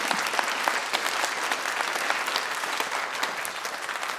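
Sustained applause from a commencement ceremony audience, dense steady clapping filling the hall without a break, with a few sharper claps standing out near the front.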